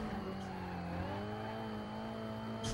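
A car drifts with long tire squeals over a steady engine drone in The Fast and the Furious racing game on PS2, loud and continuous with no talk.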